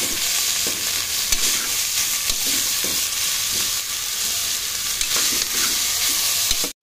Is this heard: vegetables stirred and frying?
yes